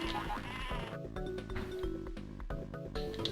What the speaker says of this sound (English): He wants us to charge and defeat all those sheep.